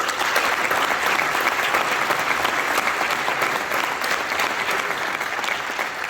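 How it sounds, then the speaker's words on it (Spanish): Steady, full applause from a crowd at a cattle fair and auction award ceremony in Ávila, honoring a livestock breeder, many hands clapping evenly throughout at close range. "Otro aplauso, señor."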